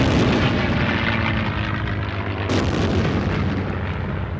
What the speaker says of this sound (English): dropping the bomb short of the target so that it bounces into position to explode